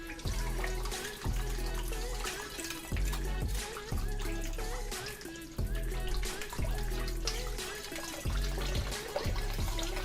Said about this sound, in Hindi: और बकरे के पाए को तो बहुत ज़्यादा एहतियात से धोना पड़ता है